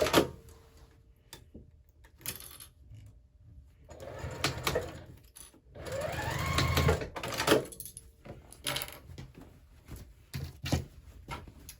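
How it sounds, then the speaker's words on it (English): Sewing machine stitching a strap onto quilted tote bag fabric, running in short close bursts of rapid mechanical whirring separated by pauses and handling noises, fairly quiet overall. "So just 1/8 of an inch from the edge of the strap and the edge of the fabric. Go ahead and sew that on."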